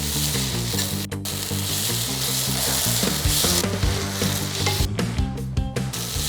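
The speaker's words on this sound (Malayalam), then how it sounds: "ഇഞ്ചി, വെളുത്തുള്ളി, പച്ചമുളക് പേസ്റ്റ് ചേർത്ത് കൊടുക്കുക. ശേഷം നന്നായി വഴറ്റി കൊടുക്കുക." Ginger, garlic and green chilli paste fries in a pan for a prawn and Chinese potato biriyani, giving a steady loud sizzle with scraping stirs and a few clinks, no voices.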